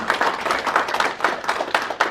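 An audience applauds a consul general at a lecture event, a steady, close patter of many hands clapping with no talk over it.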